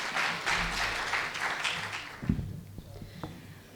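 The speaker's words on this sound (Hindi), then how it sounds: "ज़ोरदार तालियों से" Audience applause at a mushaira poetry event, a burst of clapping that is loudest at the start, fades over a couple of seconds and trails off into a few scattered claps and faint background noise.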